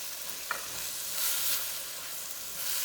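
Onion stir-frying with eggplant in a pan for a Hong Kong style dish gives a faint, even hiss with a single small click of the spatula and gentle swells of sizzle.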